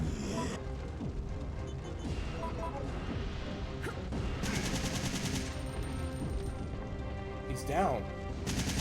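Gunfire in the video game Resident Evil 3 Nemesis on GameCube, repeated shots and crashing impacts over game music, with someone briefly talking over the action.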